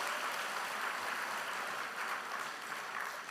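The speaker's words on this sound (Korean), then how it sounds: "다시 한번 합창단에게 큰 박수 부탁드리겠습니다." Faint, distant applause from a congregation at a church summer camp evening service, clapping for a choir, even and sustained for a few seconds with no talking.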